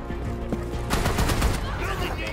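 Shotgun fire in the Rainbow Six Siege video game: loud, close bursts of gunfire with a dense burst of blasts in the middle, under a background of game noise.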